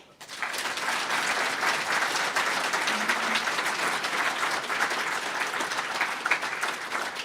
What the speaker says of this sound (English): So big round of applause to Jesse